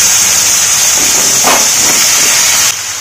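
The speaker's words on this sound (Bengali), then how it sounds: "ফুলকপিগুলো ভাজবো।" Cauliflower frying in hot oil makes a loud, steady, close sizzling hiss that holds evenly throughout, then drops slightly at the end.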